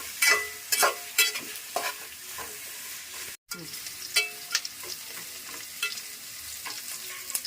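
Sliced bitter gourd fries in hot oil in a pan, a steady sizzle broken by repeated scraping strokes of a spatula as it is stirred, with a brief silent gap partway through.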